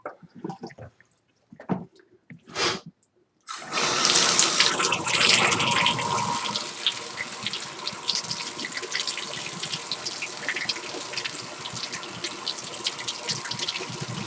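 Water gushes steadily from a tub/shower faucet fitted with a Moen 1222 cartridge, a loud continuous splashing rush that starts abruptly after a few quiet handling knocks and squeaks.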